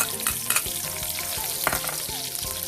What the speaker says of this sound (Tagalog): Ngayon, magigisa muna tayo ng bawang,